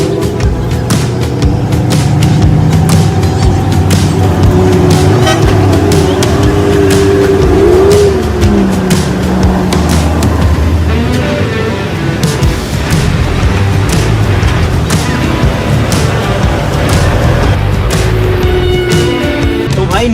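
Several supercars pulling away together in a public street convoy, engines droning and revving steadily throughout, with a crowd and people talking over the continuous motor noise.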